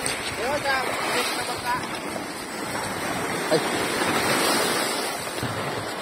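Sea waves washing along the shore where a newly built outrigger boat is being tested, a steady broad rush with wind buffeting the microphone and people talking over it.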